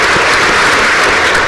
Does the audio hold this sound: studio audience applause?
yes